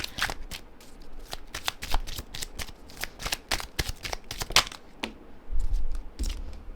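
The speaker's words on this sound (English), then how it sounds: "I'm going to pull one more card on top of the dirty work card." Tarot cards are shuffled by hand in a psychic reading, giving a dense run of crisp riffling flicks close by, with a brief pause and a soft thud near the end.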